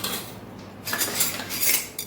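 A metal spoon scrapes and clatters around a pot of Kathiyawadi urad dal, mixing in spice masala and red chutney. The sound is quiet at first, then close, steady stirring with scraping follows with no talk.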